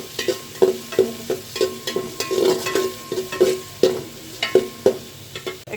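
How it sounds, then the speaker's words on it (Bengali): Onion, green chili, bay leaf, cinnamon, cardamom and cloves frying in hot oil for khichuri, a steady close sizzle broken by repeated rhythmic scrapes and stirs of a spoon against the pan. "এখন এটা একটু ভালোভাবে ভাজি করে নিচ্ছি।"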